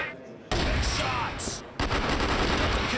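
Sniper rifle shots in a Crossfire match at a live esports tournament, two loud sharp blasts with ringing tails, the second arriving about a second after the first, over a steady bed of game noise.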